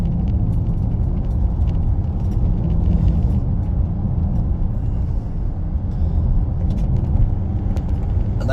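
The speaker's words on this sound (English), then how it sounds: "Oh, there's a car coming the other way on the road." A car on a country road, a continuous low engine and tyre rumble heard from inside a moving vehicle, steady and fairly loud.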